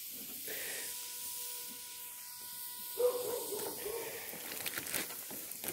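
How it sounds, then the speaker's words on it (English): A steady hiss and sizzle of wood burning in a smoker cooking beef back ribs and pork belly, with dogs barking faintly in the background and a brief tonal whine midway. "You hear that wood just sizzling."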